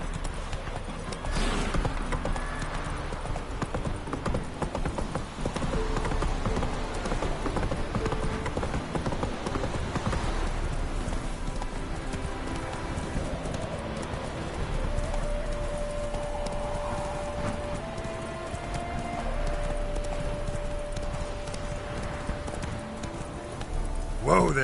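Hooves of the horse Roach clip-clop steadily at a gallop in The Witcher 3 on PS4, a continuous rhythmic patter alongside game music and effects, with brief talk over it.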